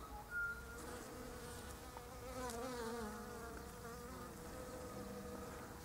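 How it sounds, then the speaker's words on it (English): Bees hum and drone around primrose flowers outdoors on a June morning, a soft, continuous buzzing that wavers as insects move near and away, with no talking. "Listen to the bees."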